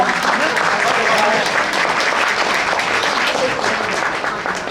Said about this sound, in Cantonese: 我亦都想借助大家嘅掌聲咧，多謝我哋所有嘅隊員